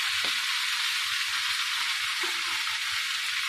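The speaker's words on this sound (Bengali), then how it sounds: "ভালো করে ভেজে নেবে।" Vegetables for a chachchari fry in a pan with an even, unbroken sizzling hiss and one or two faint knocks of stirring, close by and without talk.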